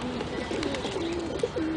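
Racing pigeons coo steadily up close, a run of low, repeated throaty calls with a faint rustle of other birds beneath, no talking.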